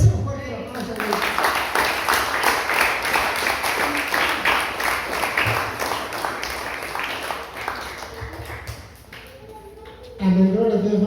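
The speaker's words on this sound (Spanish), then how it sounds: "Ese es un fuerte aplauso a Dios" Loud, sustained congregational applause in a church fills most of the stretch as steady dense clapping, fading near the end before a voice resumes.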